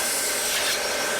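A power sander grinds steadily against wood while shaping a handmade wooden kitchen utensil, a continuous close-up abrasive whir with a rough, gritty texture and no pauses.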